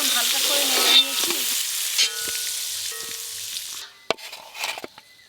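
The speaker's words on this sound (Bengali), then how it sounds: "এবার আমগুলো হালকা করে একটু ভেজে নেব" Raw green mango pieces sizzle and are stirred in hot oil for a Bengali rohu fish curry, a loud steady frying hiss with clinks that cuts off partway, leaving a few sharp utensil knocks and fainter scraping.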